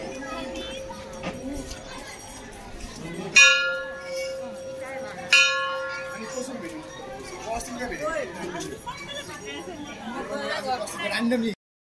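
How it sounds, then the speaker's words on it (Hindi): A bell is struck twice, several seconds apart, each strike ringing and fading under steady crowd chatter and children's voices nearby. "और ये यहाँ की पुरानी घंटी"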